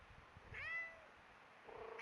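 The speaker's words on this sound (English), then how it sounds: "Oh, he's meowing." A cat gives one clear, close meow that rises and falls, then a softer second call begins at the end, over quiet room background.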